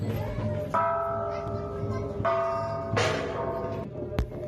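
A large shrine bell rings out at New Year in Japan, with about three resonant strikes, each leaving a lingering tone over a murmuring crowd.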